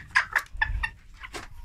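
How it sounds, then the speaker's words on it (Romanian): A broody bantam hen clucks close by, giving a quick series of short, throaty clucks in an uneven rhythm. "Deci v-am zis cloșca asta este foarte dubioasă."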